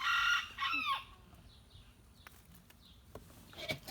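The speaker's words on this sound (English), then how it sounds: "Who paints with a parrot?" A pet parrot lets out loud, shrill squawks in a quick cluster at the start, then scattered softer chirps and clicks follow against a quiet indoor background, with one more sharp call near the end.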